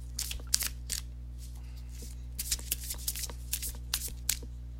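Tarot cards are shuffled in quick bursts of crisp riffling and snapping, close up, with short pauses between rounds against a low hum.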